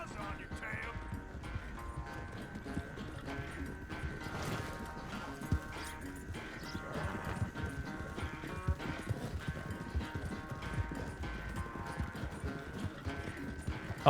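Hooves of a horse under a rider clip-clop in a steady, quiet rhythm through a video game scene, low in level beneath a continuous bed of game sounds.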